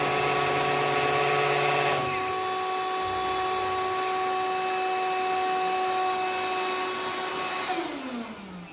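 A 20-volt cordless drill bores into concrete with a loud, steady high-pitched whine that holds several seconds, shifts pitch partway through and then winds down.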